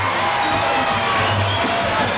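Gymnastics meet crowd at the 2003 NCAA championships, cheering steadily after a landing, with a continuous roar and scattered whoops filling the arena throughout.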